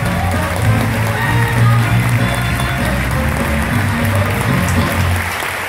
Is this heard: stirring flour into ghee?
no